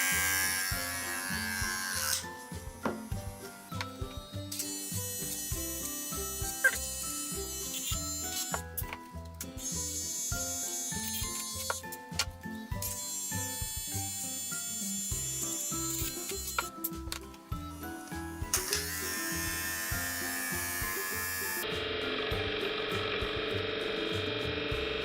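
A Wahl 5-in-1 hair clipper runs with professionally sharpened blades engaged, giving a continuous close electric buzz that shifts in pitch and texture as the blades engage, with brief dips and a steadier hum near the end.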